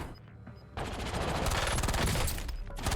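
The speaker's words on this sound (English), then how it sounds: "Somebody shoot me in the back." Rapid automatic gunfire in the Warzone shooter game, a loud sustained burst of shots after a brief quieter lead-in, with no talking.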